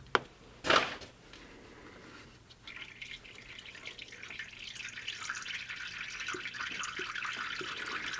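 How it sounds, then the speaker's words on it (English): Transmission fluid draining from a Jeep Cherokee XJ into a drain pan: a sharp clank, then a steady hissing trickle that grows slightly louder and fuller, close by, with no talk. "So as you can see, it is draining a little bit"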